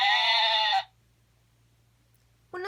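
A single drawn-out sheep bleat, loud and close, then near silence before a second bleat begins at the very end.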